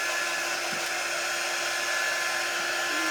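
A hair dryer blows on a layered Valentine heart craft, a steady close whirring drone that runs unbroken from start to finish with no talk.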